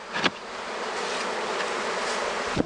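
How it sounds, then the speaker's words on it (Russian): A close, continuous buzz of honey bees fills the air as a colony is driven into a fresh hive, with a couple of brief thumps at the start and end. "И перегоняем все остальное пчелу"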